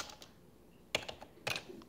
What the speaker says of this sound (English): type in root and you're in